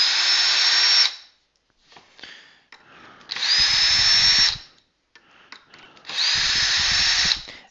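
A power drill backing screws out of a pedal on a Puma PAS helicopter flight control, three loud whirring bursts of about a second each, separated by quieter handling and clicking.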